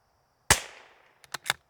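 A single sharp rifle shot from a CZ 457, close and loud with a short decaying tail, followed by a few quick metallic clicks of the action.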